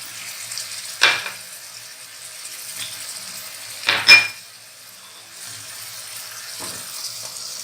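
Onion with ginger garlic paste frying in oil makes a steady soft sizzle, broken by a few clanks of a spoon stirring against the pan.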